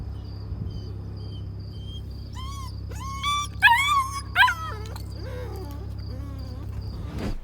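A Kangal mother dog whines in rising, wavering cries, a few short bursts clustered midway and louder than the rest, over a steady low background hum.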